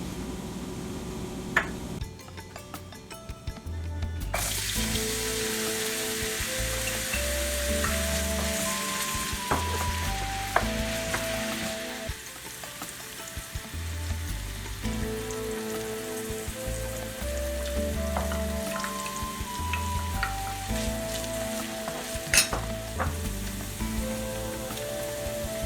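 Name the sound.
vegetable oil sizzling in a preheated pan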